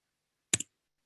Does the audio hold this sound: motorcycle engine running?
no